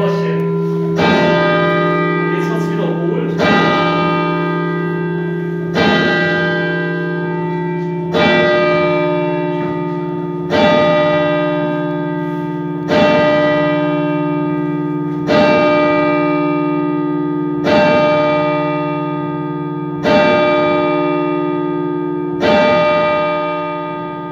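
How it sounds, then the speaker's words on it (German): Church bells at Neuenstadt are slowly set swinging, ringing loud and near in a steady, unhurried series of about nine strikes, each with a long, rich, lingering hum of overtones. "jetzt werden praktisch die Glocken langsam in Schwingung gemacht"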